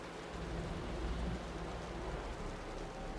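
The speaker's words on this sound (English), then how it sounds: "The rain's getting heavier." Heavy rain pours in a dense, steady hiss during a thunderstorm in the video game Wuthering Waves, with a low rumble of thunder swelling underneath.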